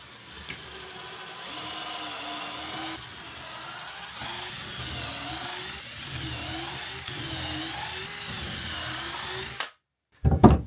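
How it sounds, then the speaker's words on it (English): A power drill whines steadily into timber in long bursts in an Irish farmhouse vaulted ceiling, its pitch wavering under load, then stops briefly before a final louder rattle. "I'll set the drill just short of going through the timber"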